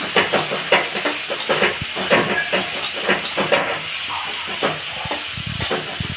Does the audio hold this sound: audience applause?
no